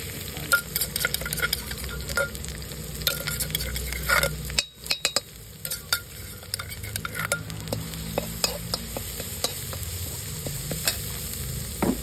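Pad kaphrao, a Thai holy basil stir-fry, sizzling steadily in a pan with constant stirring and scraping clinks of a utensil, continuous and close throughout.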